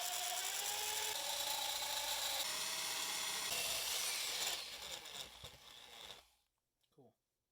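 A power drill bores into the metal casing of a Pump It Up CX arcade monitor, a loud continuous grinding whine that ends abruptly, followed by a few quieter clicks and handling sounds.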